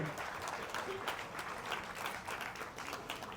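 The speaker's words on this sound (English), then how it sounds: "Give me a huge round of applause" Audience at a live show clapping for volunteers coming up on stage, a fairly faint, continuous patter of applause from a room full of people.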